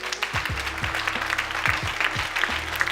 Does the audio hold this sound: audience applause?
yes